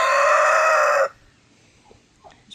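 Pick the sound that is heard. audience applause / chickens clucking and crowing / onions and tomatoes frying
chickens clucking and crowing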